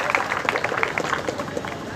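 Applause for guests taking their seats on stage at a public meeting: a crowd clapping steadily and briskly, loud and close, with voices mixed in.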